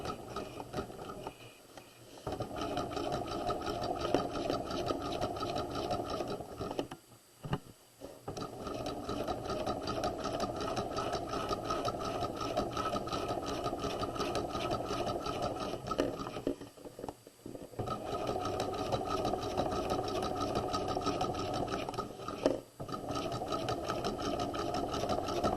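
Sewing machine stitching the flat collar seam of a garment, a steady, loud mechanical whir running continuously with several brief pauses between stitching runs.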